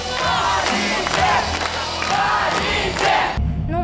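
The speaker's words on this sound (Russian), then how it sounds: "Болельщики топали, хлопали, танцевали флешмобы и скандировали названия любимых вузов." Sports fans in an arena crowd stomp, clap and chant university names together, a loud rhythmic roar of voices with rising shouted chants that cuts off abruptly near the end.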